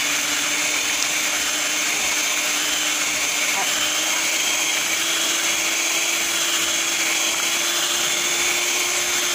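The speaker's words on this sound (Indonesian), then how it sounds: "Setelah itu, bahan-bahan ini kita mixer dengan kecepatan yang maksimal." An electric mixer runs at maximum speed, beating sugar and cake emulsifier into a batter for a sweet potato or cassava snack, giving a steady, loud, unbroken whir with no pauses throughout.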